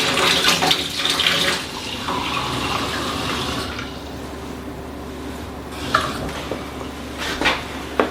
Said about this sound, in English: Let me get a half a cup of warm water here.